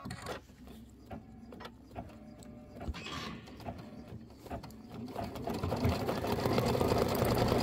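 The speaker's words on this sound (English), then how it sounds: "Go ahead and stitch the wing fill." An embroidery sewing machine stitches a wing fill on a keychain design, its needle tapping in a fast, steady mechanical rhythm that grows louder and denser toward the end, close up and with no voices.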